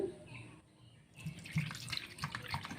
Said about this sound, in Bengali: আমি দেব ঠান্ডা জল